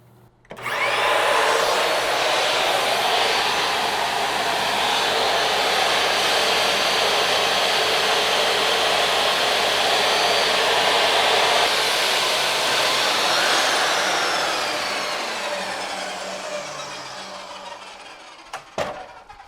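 A chop saw and shop vacuum run together on a backup generator, producing a loud, steady whining roar that holds for most of the stretch before tapering off, ending with a few short knocks.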